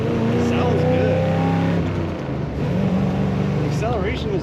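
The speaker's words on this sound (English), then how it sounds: "Very smooth running car." A 1957 Chevrolet Bel Air two-door hardtop drives along with its engine humming steadily and rising in pitch as it accelerates. The engine runs continuously under someone speaking.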